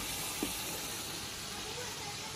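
Potatoes go into a pan of frying chicken with chillies, and a steady, soft hiss of sizzling oil follows. There is a faint bump near the start and no speech over the frying.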